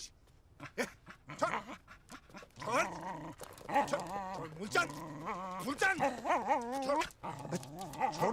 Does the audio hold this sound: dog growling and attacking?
yes